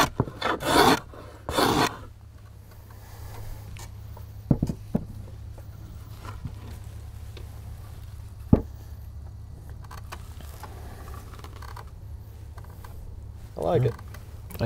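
Hand tool shaving oak for a rustic stool gives a raspy, scraping rasp in a few short strokes at the start, then scattered faint knocks and creaks over a low steady hum, with quiet talk in places.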